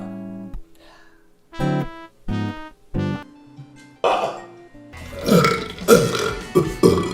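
A man burping loudly, several deep, close, resonant belches in a row, followed by a longer rough, throaty stretch that sounds like coughing or clearing the throat.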